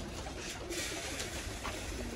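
A golden pigeon coos in soft, low repeated notes, faint and fairly distant against a steady hiss of background noise.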